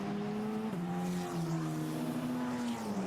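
Formula Renault Eurocup race cars lapping the Imola circuit in qualifying, a loud sustained engine whine with pitch dropping on gear changes, steady and close, no talk.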